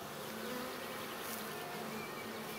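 Honeybees buzz continuously at a hive during queen rearing with a collected-brood nucleus, a dense, steady, close drone that holds for the whole stretch without pause or voices.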